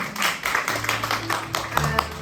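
An audience at a church youth service claps together, a steady patter of many hands with some voices mixed in.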